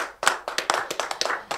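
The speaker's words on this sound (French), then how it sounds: "Ça s'applaudit" Studio audience at a French-language quiz show claps in quick, uneven bursts, a handful of distinct sharp claps close to the microphone over under two seconds.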